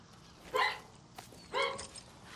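A dog in the video game Far Cry 6 gives two short, close barks about a second apart, clear against quiet background.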